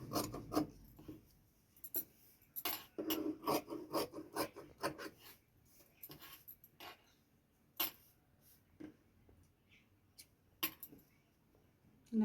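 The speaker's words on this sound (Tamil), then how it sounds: "இப்போ நம்ம வந்து ஸ்லீவ் வந்து கட் பண்ணிக்கலாம்." Scissors snip through blouse sleeve fabric in close, quiet, irregular bursts of crisp cutting and rustling, separated by short pauses.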